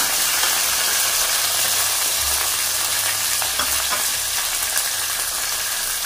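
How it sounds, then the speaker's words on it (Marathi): Ginger garlic paste, mint, garam masala and chillies fry in a pan for a veg pulao, giving a loud, continuous sizzle with the dull scrape of stirring underneath. "आता याला व्यवस्थितपणे परतून घ्यायचं, भाजून घ्यायचं चांगला मसाला, मिरची वगैरे"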